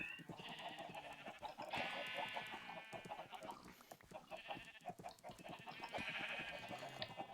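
Several sheep in the video game Minecraft bleat repeatedly, overlapping wavering cries in quick bursts, fairly close and clear against a quiet background.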